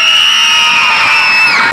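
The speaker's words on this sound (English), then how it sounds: "Can you scream?" A crowd of children at a vacation Bible school screams loudly and continuously, one sustained high-pitched shout for under two seconds.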